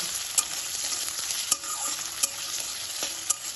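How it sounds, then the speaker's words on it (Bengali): Chopped onion sizzling in oil in a pan for a Bengali lau dal, with a constant hiss and a regular series of sharp spoon scrapes as it is stirred, near and with no voices. "পেঁয়াজ কুচিটা তেলের সাথে ভালোভাবে একটু নাড়াচাড়া করে নেব"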